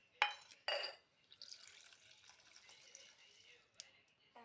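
Water poured into a bowl of chutney in a home kitchen: two short splashes open it, then a steady, fairly quiet trickling hiss runs for a couple of seconds before tapering off.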